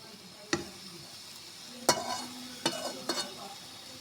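Cabbage with peas and shrimp being stir-fried in a pan: a few sharp spatula scrapes and clacks over a soft, steady background sizzle, with no talking.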